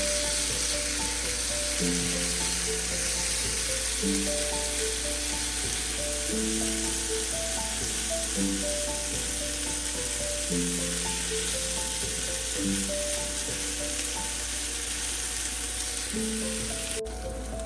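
Chopped tomatoes fry in hot oil for a Punjabi dhaba-style chana dal tadka, giving a constant close sizzle over a low steady hum, with a repeating tonal pattern running through it.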